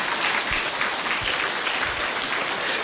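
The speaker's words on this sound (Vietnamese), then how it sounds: "vỗ tay" An audience at a Buddhist monk's talk claps in a steady, even wash of applause, with no voices over it.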